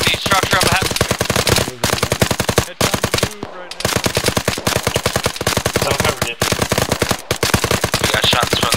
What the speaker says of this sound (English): We got shots from the white building to the east.